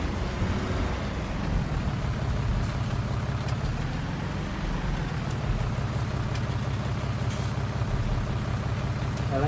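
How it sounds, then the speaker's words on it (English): A tractor engine in Farming Simulator 2019 drones steadily and fairly loudly, its low pitch rising and falling briefly midway, with no voices over it. "I like the sound of this tractor."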